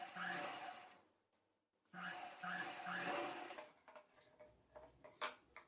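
A sewing machine stitching a blouse button placket runs in short, quiet bursts with a soft whirring hum and rapid needle ticking, pausing briefly between runs, followed by light handling noises.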